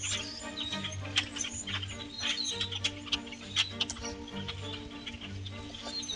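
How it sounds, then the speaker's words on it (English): A winter flock of blackbirds on a farm, many faint chirps and calls overlapping steadily at a distance as the birds fly and feed, with no talking. "Every winter swarms of blackbirds are seen at the farm."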